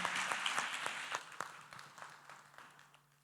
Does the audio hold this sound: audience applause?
yes